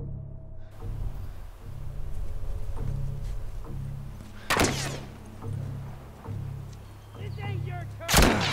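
Gunfire in The Last of Us Remastered: two sharp, loud single shots a few seconds apart over a low rumbling game ambience.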